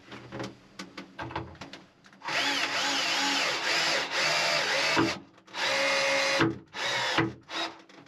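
A cordless power drill drives screws into wood while fitting a galley on a cruising sailboat, with a few short trigger bursts and then two long steady whirring runs, separated by clicks and handling noises.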